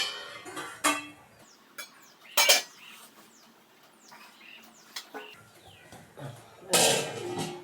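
Metal clatters and clinks as a lid is set onto a pot of fried rice, with a few sharp bangs spread out and a louder clatter near the end, close by amid quiet kitchen background and faint birdsong.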